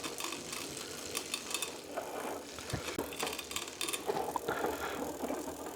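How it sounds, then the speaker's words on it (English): A late-1980s Rossin bicycle with Shimano 600 Tricolore components, its chain rubbing on the derailleur after a shift to the big ring, giving a continuous close ticking and whirring drivetrain sound with no talk. "Bit of rubbing. We do need to tighten that cable a little bit."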